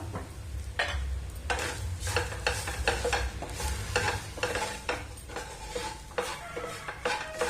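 Cooked drumstick leaves mixed with masala are stirred in a pan, with repeated close scrapes and clinks of a spoon against the metal over a low sizzle.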